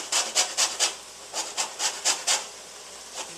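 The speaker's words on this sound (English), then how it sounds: "I'm going to get the little side of the grater. I'm going to get the zest of a lemon." Lemon zest is grated on the small side of a metal grater, a rapid run of about a dozen close, crisp scraping strokes in two quick bursts, heard alone with no talk.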